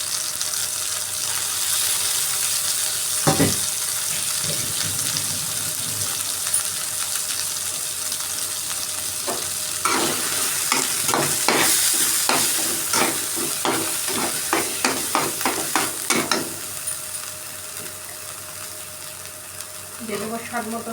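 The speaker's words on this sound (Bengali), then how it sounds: "আর এখানে আমি ড্রাই ফিশ গরম জল দিয়ে ধুয়ে রেখেছি, এগুলো দিয়ে দেবো।" Washed dry fish dropped into a frying pan, an ongoing sizzle joined by a cluster of sharp clinks and scraping strokes in the latter half, close and fairly loud.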